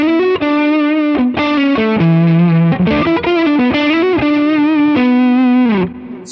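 An electric guitar, a Strat played on its neck pickup, runs through a J.Rockett HRM overdrive pedal, producing a warm, slightly chewy distorted tone. Sustained chords and riffs ring out loud and close, with no voices, before cutting off near the end.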